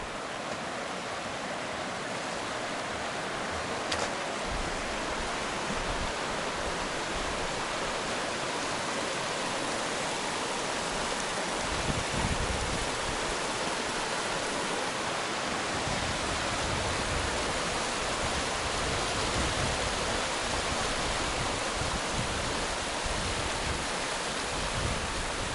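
The Waptus River rushes steadily beneath a bridge at mile 224.8 of the Pacific Crest Trail, a dense, unbroken wash of water noise that stays even and fairly loud throughout, with no voices.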